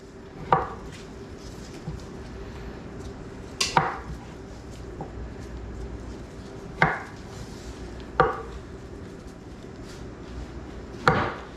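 Carrots chunked on a cutting board with a knife, five sharp separate chops spaced a few seconds apart over a quiet kitchen background.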